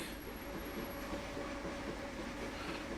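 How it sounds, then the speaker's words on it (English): Trains roll along a branch line, a steady rumbling roar of wheels on track with faint rhythmic clatter and a thin high squeal, continuous and moderately close with no talk. "I hear two trains moving."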